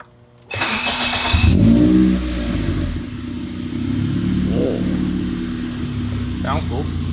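A Toyota Matrix XRS with a full bolt-on 2ZZ-GE engine on a dyno starts up with a loud burst, then revs hard and rises in pitch before settling into a steady, sustained drone close by, with a second rev swell near the end.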